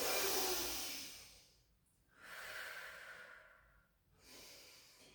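Slow breaths during a barre stretch, two long airy inhale-exhale cycles, close and fairly soft, with no talking.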